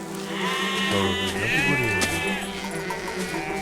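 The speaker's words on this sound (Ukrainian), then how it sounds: "Це вівці так говорили?" Sheep bleating in the video game Valiant Hearts: The Great War, several wavering nasal bleats close by, overlapping one another against a constant background bed.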